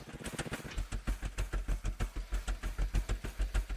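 A vehicle engine in Scrap Mechanic chugs in a steady, regular rhythm of low thumping pulses, fairly close and moderately loud, with no talking.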